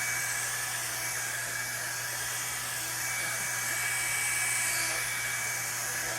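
A hair dryer blows steadily on hair during blow drying, a loud continuous whirring hum that holds evenly for the whole stretch without any speech.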